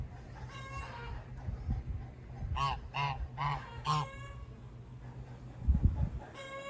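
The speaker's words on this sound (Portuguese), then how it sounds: "O ganso não deixa eu chegar lá, ali perto do ninho." A goose honks near its nest outdoors, a run of four loud, evenly spaced honks at moderate distance, with quieter calls before and after, low rumbles and handling noise.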